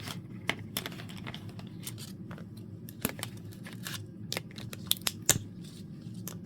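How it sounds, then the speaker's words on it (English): Small scissors snipping during a home gluing craft session, a series of short crisp clicks and cuts at an irregular pace, close and fairly quiet. "I use a pair of scissors a lot of times"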